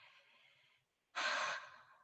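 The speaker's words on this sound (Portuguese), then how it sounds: "Respiração." A person breathes softly, then a stronger, breathy exhale or gasp follows a short pause. The breath sounds are close and alone, with no talk.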